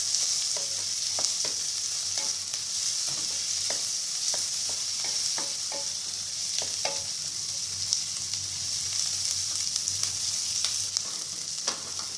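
Green chillies and garlic cloves fry in oil in a pan while making amaranth sabzi, a low constant sizzle under scattered light clinks and scrapes of stirring, close and fairly quiet with no voice.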